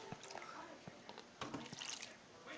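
Water poured from a gallon jug into a rabbit's water dish, a few soft trickles and splashes in short bursts, faint and close, with no talking.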